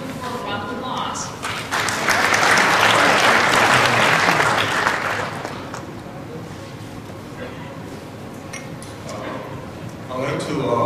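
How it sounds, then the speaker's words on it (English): A forum audience at an opening ceremony applauds to welcome Mr. Kim, the clapping swelling to a loud peak in the first few seconds, then thinning and fading, with a voice speaking over the later part. "Please welcome Mr. Kim for a round of applause."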